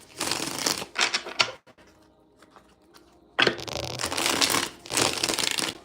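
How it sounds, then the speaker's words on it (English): Two bursts of crisp riffling and shuffling, like a deck of cards being shuffled, separated by a quiet pause with faint handling noises. "I don't know why I'm shuffling so much for Pisces"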